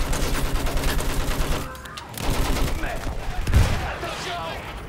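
Rapid bursts of gunfire from World War I rifles and machine guns in the video game Battlefield 1, loud and dense under battle noise and a heavy impact near the end, with faint voices mixed in.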